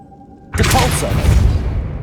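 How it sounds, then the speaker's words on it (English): A Depulso force spell cast in Hogwarts Legacy on PS5 inside a tomb: a sudden loud whooshing blast bursts in after a quiet moment and sustains as a rumbling, crackling burst, with a faint voice present. "Depulso!"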